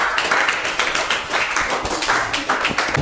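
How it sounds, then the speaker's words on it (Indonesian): Classroom clapping for a student group during a university teaching assessment lesson on Islamic inheritance, a few seconds of close, brisk hand claps from a small group of people. "tepuk tangan untuk kelompok 4"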